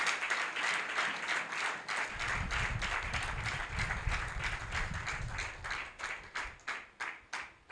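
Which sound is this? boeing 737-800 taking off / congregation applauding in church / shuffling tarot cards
congregation applauding in church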